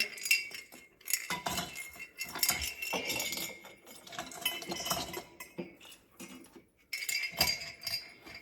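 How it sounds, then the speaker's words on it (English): Plastic Christmas ornaments clinking and rattling against each other as they are handled, a run of bright irregular clicks and clatters with short pauses, close and fairly loud, no voices. "they're plastic ornaments in here."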